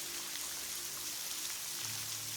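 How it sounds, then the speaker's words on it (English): Big Lions Falls waterfall producing a steady, broadband rush of falling water, continuous and even in level throughout, with no voices present. "So this is Big Lions Falls"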